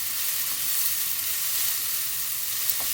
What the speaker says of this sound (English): Once you hear this sizzling and come together, chicken's nearly cooked.